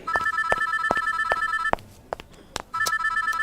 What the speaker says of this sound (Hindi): तभी उसे लैंडलाइन फोन की रिंग सुनाई दी।